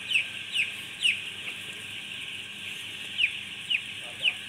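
Broiler chickens in a farm coop during the afternoon, giving several short, bright clucks and squawks at irregular intervals against a steady background hum of the house.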